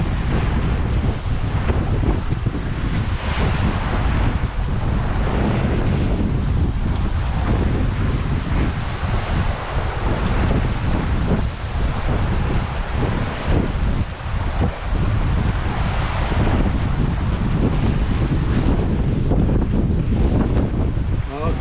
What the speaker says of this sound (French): il y a des rafales un peu compliquées